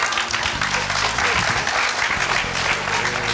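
A studio audience on a French game show applauds loudly, a thick, even wash of clapping that carries on unbroken for over three seconds with some low background sound underneath.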